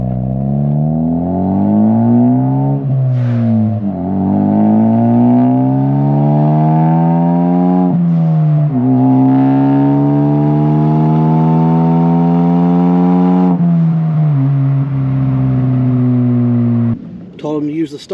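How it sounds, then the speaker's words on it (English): A Ford Focus ST with a big intercooler and a 3-inch catback exhaust revs up repeatedly, each pull a rising droning tone that drops back before climbing again, close and loud, with a brief break near the end. "I have a 3-inch catback exhaust right now."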